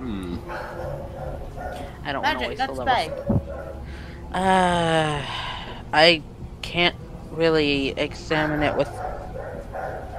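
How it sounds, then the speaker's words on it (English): A neighbor's dog barks in the background, several sharp barks scattered through the clip and partly masked by people talking in the foreground. "Apologies, that's my neighbor's dog."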